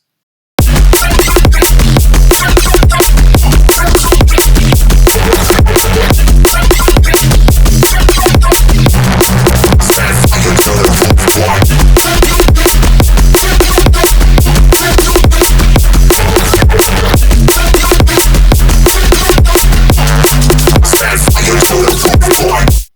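A neurofunk drop built in Serum 2 plays in a full mix: a loud, dense, gritty synth bass riff over hard, driving drums, continuous and powerful from start to finish.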